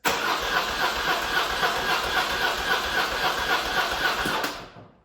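A BMW R100RS motorcycle engine, run without choke, given a little throttle: a loud, steady, rough mechanical roar held for about four seconds before it cuts off and fades quickly.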